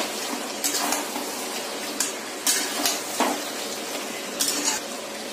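Chicken bhuna masala being stirred in a pan with a spoon, giving steady scraping and clinking of utensil against metal over a constant sizzle, with several louder stirring strokes.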